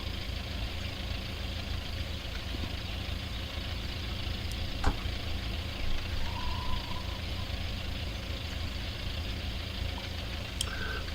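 An Oliver twin-cylinder tractor engine idles steadily with a low, even chugging rumble at moderate distance, with faint clicks and a brief higher tone heard over it.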